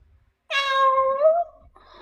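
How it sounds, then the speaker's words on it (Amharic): A cat gives one clear, drawn-out meow that slides slightly in pitch and lasts about a second, close to the listener, with a faint trailing sound afterward and no talking. "እቺ ደግሞ ሚስጊኗ ድመት"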